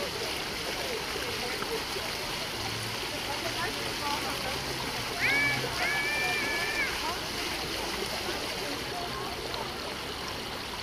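An indoor water feature in Luton Mall splashes and trickles continuously, a steady wash of falling water with faint tonal squeaks and a brief murmur of voices in the background.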